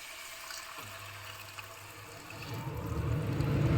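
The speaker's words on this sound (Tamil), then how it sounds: "புளி தண்ணியை விட்டுட்டு அதுக்கப்புறமா நமக்கு எவ்வளோ வேணுமோ அவ்வளோ தண்ணி விட்டுக்கலாம்" Tamarind water is poured into a pot of spicy raw banana tamarind curry: a quiet lead-in, then a splashing, gurgling pour that grows louder and continues through the end, with no talking.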